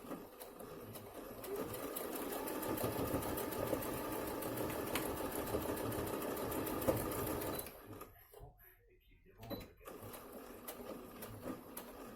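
A sewing machine stitching elastic onto a fabric face mask whirs steadily and rapidly for about seven seconds, then stops, leaving a quieter room with only a brief mechanical sound afterward.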